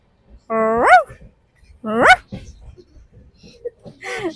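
A person on a train imitates a dog, giving two rising, yelping barks followed by quieter vocal sounds and a short third bark at the end.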